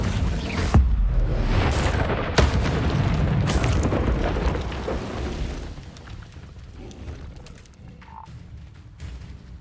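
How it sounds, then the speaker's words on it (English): A fiery Incendio spell blast in Hogwarts Legacy, a loud whooshing burst with booming low rumble that erupts near the start and then trails into fainter crackling bursts amid ongoing game noise. "Incendio!"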